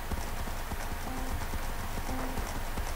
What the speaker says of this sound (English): Horse race again.